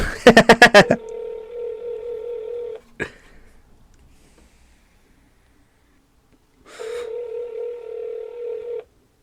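A phone call placed on speakerphone: a quick burst of keypad dialing tones, then a steady electronic ringback tone that repeats twice with a long silent gap between the rings, loud and close with no talking.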